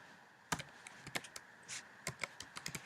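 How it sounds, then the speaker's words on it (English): Algebra equations are typed on a computer keyboard as a quiet scatter of irregular key taps, single and in quick clusters, in an otherwise silent room. "I'm going to type in a couple of equations."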